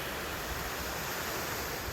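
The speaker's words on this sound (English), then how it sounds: "we know that waterfall is right down here" Waterfall on a trout creek in a wooded area, a constant dense roar of rushing water that fills the sound with no break and no voices.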